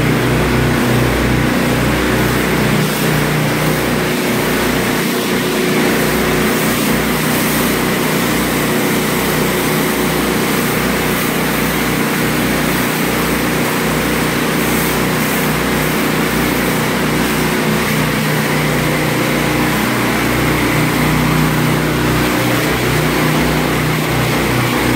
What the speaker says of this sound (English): Now here I've got Andrew on the power washer